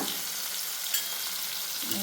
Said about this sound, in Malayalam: ചോറ് വെച്ച ശേഷം നമ്മുടെ മീൻ വറുക്കാൻ ഇടുകയാണ് അപ്പോൾ ഇട്ടു എണ്ണയൊക്കെ ചൂടായപ്പോൾ ഒരെണ്ണം ഇട്ടു